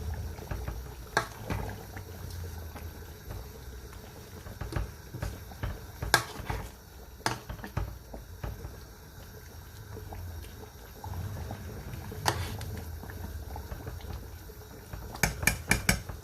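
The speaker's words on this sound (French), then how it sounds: "J'essaie de remuer un peu ma sauce. J'essaie d'écraser mon poisson." Metal spoon clinks and scrapes inside a cooking pot while a fish sauce is stirred and the fish mashed, with intermittent clatters over a low simmering background.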